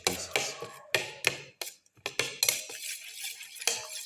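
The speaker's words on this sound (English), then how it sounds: "Mix in the ginger pieces" Sharp clinks and scrapes of a utensil against a pan as ginger pieces are mixed into tomato, in irregular bursts with short pauses between strokes.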